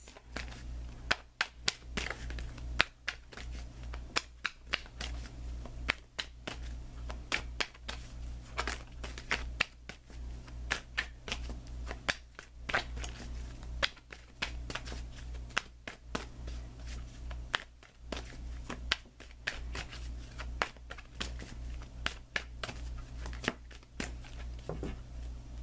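Tarot cards are shuffled and pulled in a quiet room, a long run of close, rapid riffling and tapping clicks in an irregular rhythm over a low steady hum.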